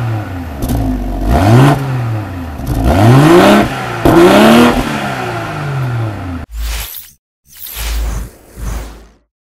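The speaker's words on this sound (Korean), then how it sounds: "배기 한번 들어볼게요." A BMW X4 M40i coupe-style SUV revs its exhaust in several sharp blips, each climbing and falling quickly, loud and near, followed by a couple of shorter bursts separated by brief silences.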